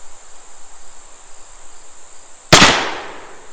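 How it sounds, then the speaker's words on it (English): A Pietta 1858 Remington cap-and-ball revolver fires one sharp, loud shot outdoors, cutting through steady insect chirping and trailing off in a brief echoing decay. "fired on the third shot"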